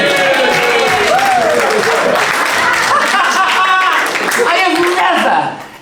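Comedy-night crowd cheering and clapping after a joke, a loud, close mass of whoops, chatter and laughter with hands clapping underneath, fading out at the end.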